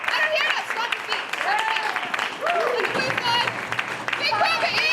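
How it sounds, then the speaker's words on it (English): A college poetry-night audience at DePauw University claps and cheers steadily throughout, with dense applause mixed with whoops and talking voices. "Keep clapping."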